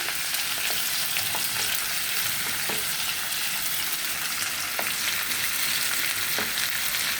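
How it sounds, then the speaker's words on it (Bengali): Food fries in a pan until browned, giving off a loud, steady hiss and crackle with the odd faint scrape of stirring, and no voices. "সব কিছু লাল করে ভেজে নেব।"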